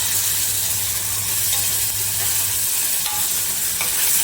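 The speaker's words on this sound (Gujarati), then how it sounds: "હવે એકદમ હલાવવાનું છે ને તો દહીં ફાટી જશે" Yogurt being stirred into a spiced papad curry in a hot pan, with a steady sizzle and soft scraping strokes throughout, close and even.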